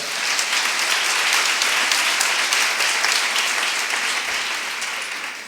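A classroom or talk audience gives sustained applause for Sonia, even continuous clapping that stays loud before easing slightly at the end.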